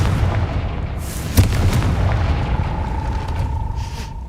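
A Confringo blasting spell in Hogwarts Legacy goes off as one sharp boom with a brief burst, over a steady bed of game ambience. A faint tonal hum lingers afterward.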